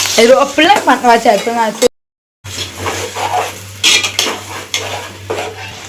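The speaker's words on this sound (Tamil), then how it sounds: "அதையும் அதில் போட்டுக்கிறேன். அந்த எண்ணெயில் வதங்கட்டும்." Ground tomato and onion paste dropped into hot oil, a steady sizzle with spoon scrapes and pan clatter following someone speaking, after a brief silent break.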